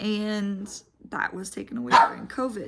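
A pet dog barks and yips a few times close by, mixed in with a person talking over it indoors.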